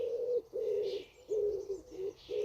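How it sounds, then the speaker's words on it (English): A pigeon coos in a slow, repeated rhythm of soft, hollow, owl-like notes, about five calls with short pauses between them, faint and alone. "I'm pretty sure that's a pigeon and not an owl, even though it's a bit of an owl sound."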